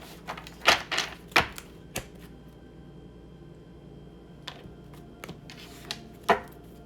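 Tarot cards being shuffled during a reading, a few sharp riffling and tapping bursts near the start, sparse clicks later, close and fairly loud, no talking.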